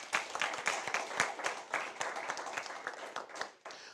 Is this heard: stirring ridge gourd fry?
no